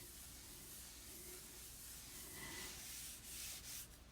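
A hand rubs across a rough chalk-painted surface, a faint continuous scratchy friction with slight swells in level, close and with no talking.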